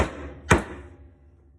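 A mortise chisel strikes once into a hand-cut wooden mortise, a single sharp close knock followed by a short decaying ring, with no talk.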